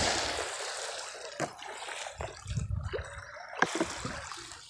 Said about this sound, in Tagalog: medyo malakas na ang alon